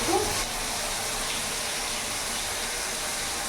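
Cold water running steadily from a tap into soaked soybean chunks, a continuous wash of pouring and splashing that holds at an even level throughout, with no talk over it.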